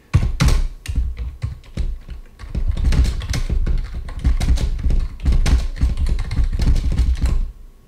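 Keys clatter in uneven bursts as someone types on a keyboard hooked to a CoCo 3 computer, close and fairly loud with short pauses between runs of strokes.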